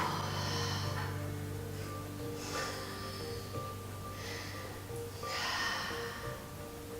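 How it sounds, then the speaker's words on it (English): Slow, deep breaths, drawn in through the nose and let out through the mouth during a beginner yoga and Pilates fusion class, four soft airy swells repeating over a steady low background hum. "Nice deep inhale through the nose. Exhale through the mouth."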